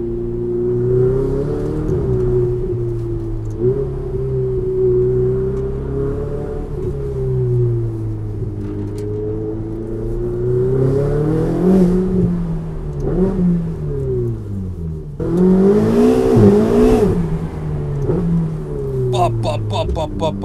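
Ferrari 488 fitted with a Novitec exhaust, its engine roaring and rising in pitch under acceleration, a deep, loud, steady drone with harsher surges near the end, heard from inside the car while someone talks over it.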